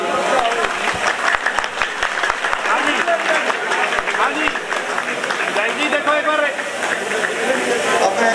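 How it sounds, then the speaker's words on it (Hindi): A crowd at a Congress political rally in Rania claps vigorously in a sustained burst of applause, with a voice talking over it. "जोरदार तालियां"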